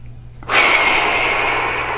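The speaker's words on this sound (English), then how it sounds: "Breathe in. Once you reach the top, take another breath." A deep breath drawn in during a calming breathing exercise done before meditation, a sudden loud inhalation that starts abruptly and holds steady as a broad airy rush to the end, alone with no talk.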